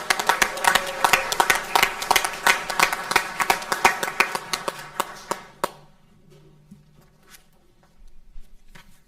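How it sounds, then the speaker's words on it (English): An audience at a town board of commissioners meeting claps for young children, dense close applause for about five seconds that thins to a few last claps and then a quiet room. "Let's give those young children, our future leaders here in Fuquay-Varina, a round of applause, please."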